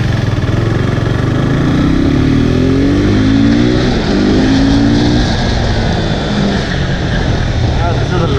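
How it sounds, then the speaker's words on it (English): A 2017 KTM RC 390 motorcycle engine drones steadily while riding, close and loud, with rising and falling harmonic pitch as it revs through gears, mixed with wind rush throughout. "that was a quick ride of the brand new 2017 RC 390"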